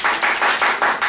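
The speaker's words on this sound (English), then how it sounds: "Clap your hands!" Young children aged three and four clapping their hands in a classroom routine, about five quick group claps in a regular rhythm, close and fairly loud.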